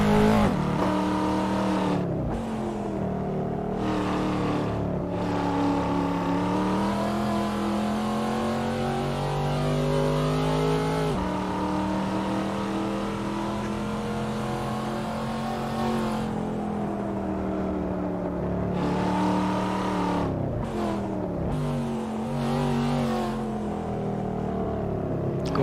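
Race car engines in a sim racing game at Canadian Tire Motorsport Park, a loud, continuous high-pitched drone rising and falling through gear changes and throttle lifts, with several cars layered together and no talking.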